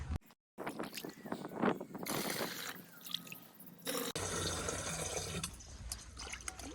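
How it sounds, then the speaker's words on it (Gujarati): A water container is filled by hand from a deep farm pond, giving irregular sloshing, gurgling and dripping at low level, with a brief dropout and shifting splashes as the vessel moves. "પાણી ભરી રહ્યા આવી રીતના ભરવું પડે કેમ કે બહુ ઊંડું છે"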